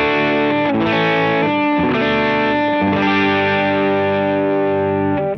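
Electric guitar played through a Lauren Audio Benson overdrive pedal on its own, a loud, steady distorted tone with sustained chords ringing throughout and a few changes in the strumming.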